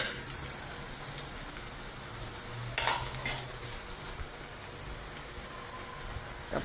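Garlic, ginger and bay leaf sautéing in oil give a steady, even sizzle, with a couple of faint utensil scrapes against the pan partway through.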